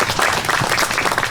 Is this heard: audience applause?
yes